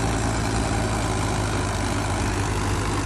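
A 2009-model Eicher tractor engine runs steadily during a tug-of-war contest, a close, continuous low rumble and drone that holds even for the whole stretch with no talking.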